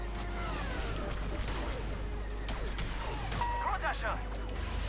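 Blaster and gunfire in a Star Wars Battlefront 2 campaign space battle against TIE fighters, a dense, continuous stream of rapid shots and crashes with voices talking over the game action.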